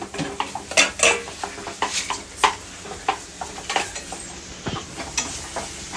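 Onions frying in a pan while being stirred, with sharp irregular metal scrapes and clinks of a spoon against the pan over a low sizzle, close and busy, no talk.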